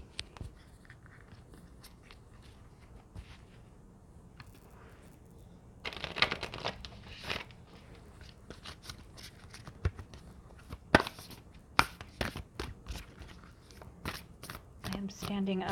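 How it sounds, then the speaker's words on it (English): Tarot cards are shuffled close by, a run of crisp, irregular riffling and slapping bursts that grows busier and louder in the second half, with occasional soft rustles between. "So let's shuffle and pull some cards."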